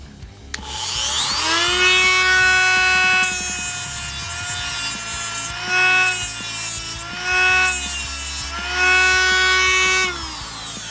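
A dedicated tungsten grinder spins a TIG welding electrode against its wheel while the tungsten is twisted, a steady high-pitched motor whine with grinding contact that swells and eases several times, close and loud throughout.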